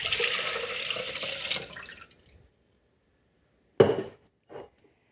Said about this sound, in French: on va venir mettre dans le Thermomix 950 g d'eau